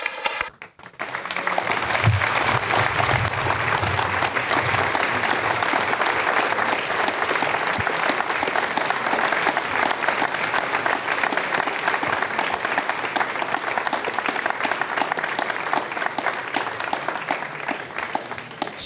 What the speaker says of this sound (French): vous avez entendu les applaudissements des personnes présentes ici à Jupiter